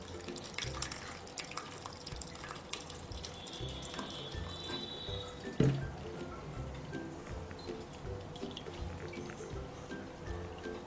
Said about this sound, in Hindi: सारा जो छेना है उसे छान लेंगे।